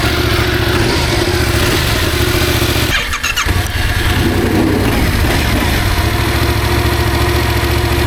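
A motorcycle engine idles steadily and close by, a low even rumble that briefly dips and sputters midway before settling back into its rhythm.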